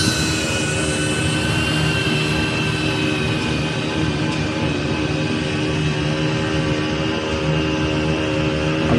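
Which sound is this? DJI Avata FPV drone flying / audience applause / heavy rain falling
DJI Avata FPV drone flying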